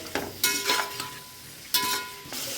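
Tomatoes sautéing in a pan for country chicken biryani, a soft sizzle broken by several bursts of stirring and scraping with a spoon, close and moderately loud, with no talking.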